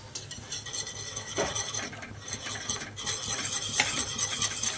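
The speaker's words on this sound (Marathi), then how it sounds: "एक वाटी बेसन आता उकळी त्यात टाकून हलवून घ्यायचं" Gram flour is stirred into boiling water in a pot, giving a continuous close scraping and swishing with a faint bubbling hiss underneath and no talking.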